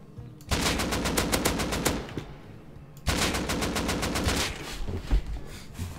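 Loud, rapid automatic gunfire in the video game Rust comes in two long bursts of close, evenly spaced shots, separated by a brief pause.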